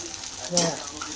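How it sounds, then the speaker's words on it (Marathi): A brief burst of oil frying and crackling in a pan as tomato goes in for a spicy moth bean curry, rising for a moment over a steady hiss. "हे पण मस्त आपण तळून घेऊ"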